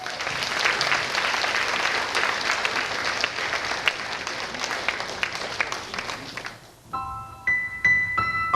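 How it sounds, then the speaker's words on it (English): An audience claps loudly and steadily for about seven seconds, welcoming a performer at a vegan peace event in Chicago, before the clapping gives way to gentle instrumental music. "Please welcome with a grand applause."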